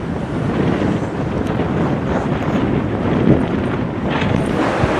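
Strong wind buffets the microphone on a black-sand beach in Kamakura, Japan, a loud, continuous roar with surf mixed in and no talking.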